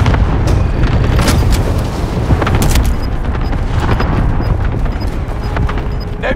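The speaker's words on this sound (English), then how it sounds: "Cluster strike is active." Cluster strike explosions in Call of Duty Warzone roll in as a loud, continuous barrage of deep overlapping booms and rumbles, with sharper cracks scattered throughout and faint beeping tones in the second half.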